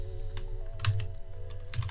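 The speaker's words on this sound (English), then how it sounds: "typing is a difficult art, one I have not mastered yet" Quick, uneven keystrokes on a computer keyboard click softly in short bursts over a steady low electrical hum, fairly quiet and close.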